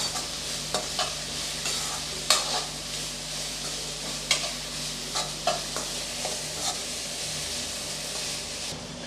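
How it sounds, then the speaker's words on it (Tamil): Egg fried rice ingredients sautéing in a pan, a steady close sizzle with intermittent scraping stirs and a few sharper spatula knocks against the metal, no voices. "நல்லா வதக்கி விட்டுறலாம் இதுவும் ரொம்ப நேரம் வந்து வதங்க வேண்டாம்"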